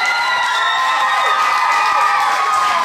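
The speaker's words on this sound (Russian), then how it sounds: "Итак, еще раз аплодисменты второму отряду." Dense cheering and shouting from a crowd of young people at a camp talent show, loud and continuous, with high excited voices filling the room and some clapping mixed in.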